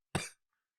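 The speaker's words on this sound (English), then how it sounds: "That's genuinely why I'm coughing." A single short, loud cough from one person with asthma, right after a gym session, sharp and close, then silence.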